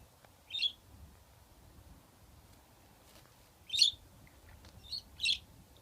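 A budgie gives three short, bright chirps spaced several seconds apart, close and clear against a quiet room with faint low background noise.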